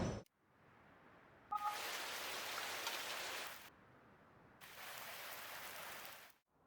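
Steady hiss of rain in Farming Simulator 19, in two sustained bursts separated by a brief lull, soft and even, with no voices.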